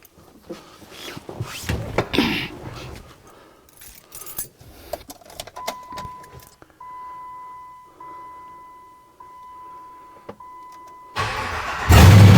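LS V8 engine swapped into a Jeep JK, with keys jangling and a warning chime beeping before the engine cranks and fires up loudly at the very end.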